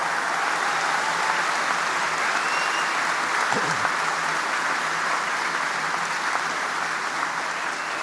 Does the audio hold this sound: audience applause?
yes